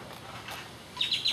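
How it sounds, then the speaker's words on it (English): Birds in a big backyard tree give a few short, faint chirps near the end, over quiet outdoor ambience. "I'm sorry for the birds that are out here right now"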